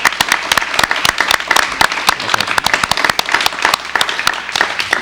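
Studio audience applause greeting the president of the International Council of Christian Churches on a 1984 Korean TV talk show, dense steady clapping from a crowd, loud and close, lasting throughout without speech.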